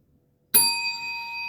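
A single bell gives one sharp ding that rings on with a clear sustained tone. It sounds close and moderately loud after a moment of near silence.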